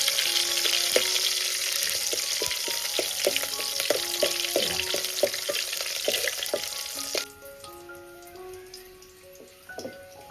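Garlic and curry leaves crackle and sizzle in hot oil for tempering over a wood-fired stove, a dense, steady frying hiss broken by sharp pops, easing slightly toward the end while faint tonal background sounds linger.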